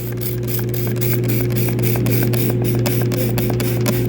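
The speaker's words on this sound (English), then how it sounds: "Let's spray this on here." A handheld trigger sprayer pumps organic stain and odor remover in rapid repeated bursts, each squeeze giving a short mechanical click and hiss over a loud steady hum.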